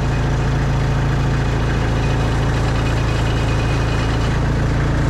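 A hydraulic-drive forklift engine idles nearby, giving a constant, even, loud low rumble with a fine mechanical chatter and no change in pace, with no voices.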